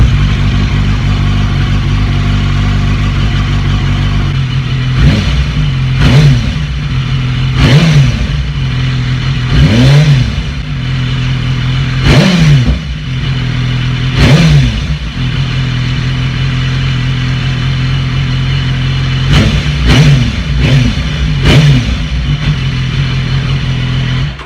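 A BMW S1000RR superbike fitted with a decat link pipe idles loudly nearby, punctuated by a series of sharp throttle blips and revs, several close together near the end.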